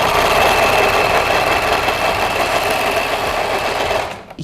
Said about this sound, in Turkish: Hemen overlock'umu da burada dikiyorum.